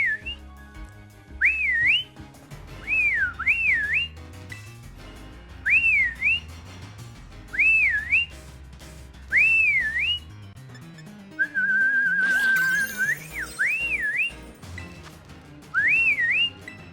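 Repeated whistled rising-and-falling phrases in the Pokémon Scarlet/Violet video game, about eight short calls with one longer steady whistled note in between, loud and clear over soft game music.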